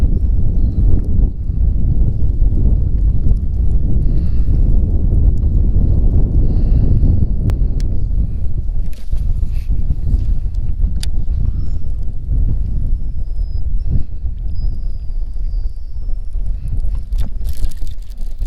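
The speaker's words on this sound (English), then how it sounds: "The wind blowing in on this could prove to be" Gusty wind buffeting the microphone on a lake during bass fishing from a boat, heavy low rumble throughout with scattered knocks and faint splashes, loud and continuous with no talk.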